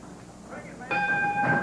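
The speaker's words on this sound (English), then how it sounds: "Bell time, and here we go, Davey." Wrestling ring bell struck to start a match at a 1982 Memphis wrestling event: one sharp metallic clang with a ringing tone that lingers under arena noise and commentary.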